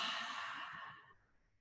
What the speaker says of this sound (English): Emptying exhale